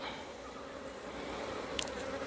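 Honeybees hum in a steady, close, dense drone at an opened beehive during a frame inspection, with one faint brief click near the end.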